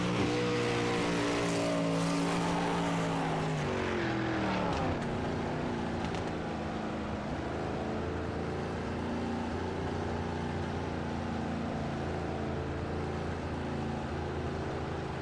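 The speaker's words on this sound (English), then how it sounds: "y'all watch the sights and sounds of some of these cars going around right now" Race cars, including 305-class cars, circle a track during qualifying; continuous loud engine drone with a pitch sweep as cars pass by near and far, no talk.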